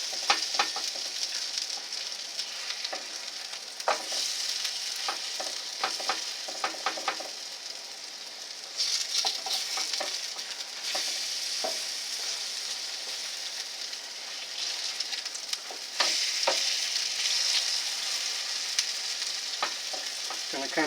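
German potato pancakes fry in a pan, giving a continuous close sizzle with crackling pops and brief louder surges as they are pressed and turned; no one speaks.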